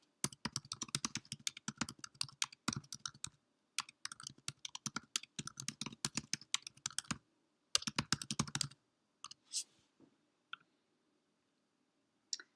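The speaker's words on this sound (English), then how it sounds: "I'm just going to start typing in the quote." Quick, steady typing on a computer keyboard comes in close, crisp bursts of keystrokes with brief pauses, then a few isolated clicks near the end.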